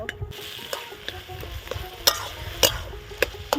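Taro leaves being stir-fried for a prawn kochu shak dish crackle steadily in a pan, with a utensil scraping and tapping against the metal in quick, irregular strokes and a few sharper clinks.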